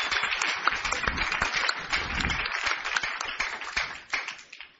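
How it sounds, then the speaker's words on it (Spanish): A church congregation applauding during a bilingual service, a burst of dense clapping at close range that swells in the middle and then thins and fades toward the end. "Dele fuerte aplauso al Señor."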